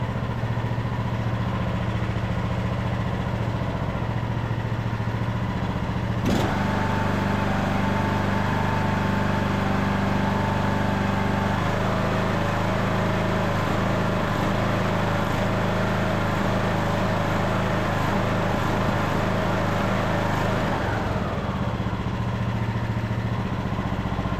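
A Craftsman lawn mower engine runs steadily and loudly close by, its pitch rising and falling slightly as it surges at full RPM, with a sharp change in tone partway through and no talking.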